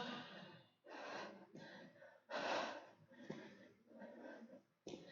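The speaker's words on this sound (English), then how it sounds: "Heavy breathing here, guys." Heavy, labored breathing close to the microphone during a lower-body HIIT workout: a series of deep, rhythmic gasps and exhales, each breath lasting about a second.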